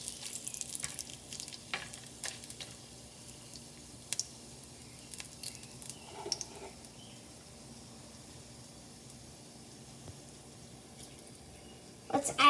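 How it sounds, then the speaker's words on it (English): Soft sizzling as bay leaves are stirred into a frying mutton biryani mixture, with quiet scraping stirs and faint crackles, picking up in a louder burst of stirring at the end. "some bay leaves, and now let's mix them together"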